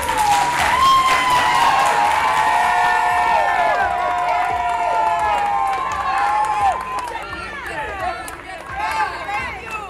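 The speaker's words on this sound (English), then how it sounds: "It was extremely emotional hearing his family cheering, clapping." A family cheers and claps loudly at a prisoner's release, with dense, close applause mixed with excited whoops and overlapping voices that ease off slightly toward the end.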